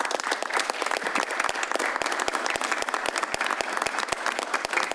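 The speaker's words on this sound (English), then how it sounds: "you deserve a round of applause for all your hard work." An audience applauds the planning and zoning commissioners at a city meeting, steady clapping from many hands filling the room for several seconds.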